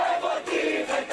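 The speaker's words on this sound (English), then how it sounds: "cheering at a watch party for the release of the dual U.S.-Israeli citizen" A hometown watch party crowd in Tenafly, New Jersey, cheering and shouting for a released hostage: a loud, dense swell of voices that rises and dips in waves over a short burst.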